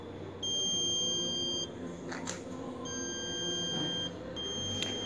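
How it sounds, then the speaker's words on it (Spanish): An automatic egg incubator's low-temperature alarm beeps in long, high, steady tones, sounding on and off several times over a faint fan hum. "nos saltará una alarma sonora ya que está a baja temperatura"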